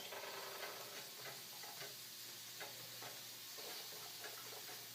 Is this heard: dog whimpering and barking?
no